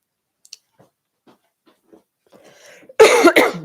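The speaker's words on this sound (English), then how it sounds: "So you might get a slightly annoying cough happening at some point" A single close, harsh cough bursts out after a few seconds of near silence broken only by tiny mouth clicks.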